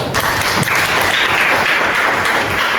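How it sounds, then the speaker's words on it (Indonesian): Students in a classroom break into applause, a dense, steady wash of many hands clapping close by for just under three seconds with no voices. "Tepuk tangan untuk saya."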